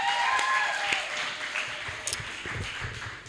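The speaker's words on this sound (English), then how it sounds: "Could we please give them a round of applause?" An audience applauds a spoken-word poetry team at a summer event, a moderate crowd of clapping that gradually thins out, with a few voices faintly audible beneath.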